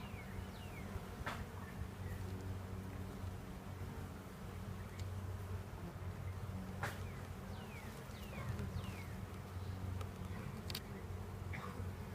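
Honeybees buzz around a beehive at SOFT farm in Manoa, a soft continuous hum with individual bees zipping past the microphone now and then, faint and unaccompanied by voices.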